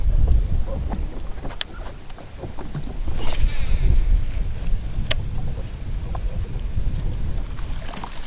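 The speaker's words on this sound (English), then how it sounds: "We have still insane wind." Strong wind buffets the microphone in a steady low roar while bass fishing, with faint water and boat sounds underneath and no talking.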